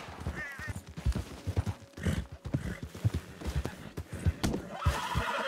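A horse in Red Dead Redemption 2 whinnies several times over steady clip-clopping hooves, with scattered thuds and faint background game sounds throughout.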